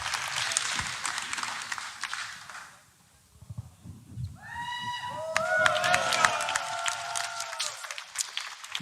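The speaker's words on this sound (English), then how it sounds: "On peut les applaudir bien fort." Applause from a live esports arena crowd at the ESL Pro League CS:GO semi-final between mousesports and Team Liquid on Nuke, a dense rolling clatter of clapping that dips briefly mid-way, then returns over bright electronic tones.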